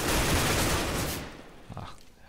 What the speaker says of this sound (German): Boah, schöner Schuss von Baba.